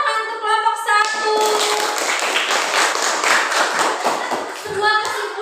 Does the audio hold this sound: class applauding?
yes